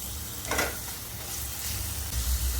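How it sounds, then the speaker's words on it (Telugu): Onion pieces fry in a little oil for a raw banana stir-fry, a quiet close sizzle with a brief stir or scrape early on and a low rumble underneath, no voices. "ఉల్లిపాయ ముక్కలు వేసి అది వేగిన తర్వాత"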